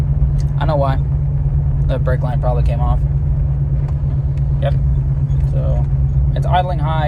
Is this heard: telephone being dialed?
no